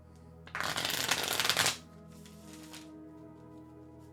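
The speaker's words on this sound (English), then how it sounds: "And Sonoronen, I'm shuffling for you now." Tarot cards are shuffled close up: a loud riffling burst lasting about a second, then a quieter second shuffle, over a faint steady hum.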